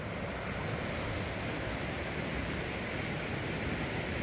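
A Turkish stream running full in January near a bridge in Demirci gives a steady, close rushing wash of water, continuous and even, with no talk.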